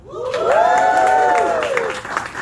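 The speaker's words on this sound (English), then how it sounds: "Let me give a cheer for Aruba." An audience cheers for Aruba in a loud, sustained burst of voices and applause lasting a couple of seconds.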